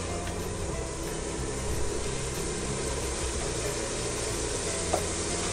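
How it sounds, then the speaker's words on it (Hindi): A large chopped onion fries lightly in a pan of hot oil, giving a steady, dense sizzle with faint stirring scrapes, close and continuous, no voices. "तकरीबन 1 बड़ा प्याज डाल दें। इनको हल्का सा फ्राई करें।"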